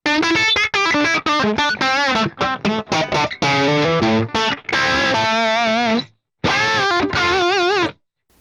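Electric guitar played through a moderately overdriven amp, a run of choppy chords and sustained notes with brief pauses, loud and close.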